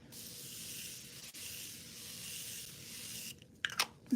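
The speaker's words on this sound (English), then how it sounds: "Now I'm going to go with my Morphe setting spray." Morphe setting spray hisses out of a bottle in a steady, close, fairly quiet mist lasting several seconds, followed by a few faint clicks and taps.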